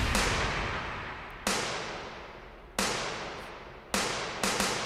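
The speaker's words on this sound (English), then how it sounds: "So it's like a sound effect that lines up with the snare drum." Percussive sound effects from a song's hype track, played solo and timed to the snare: sharp whip-like cracks with long noisy decays, four or five hits at uneven intervals, the last two close together, loud and up front.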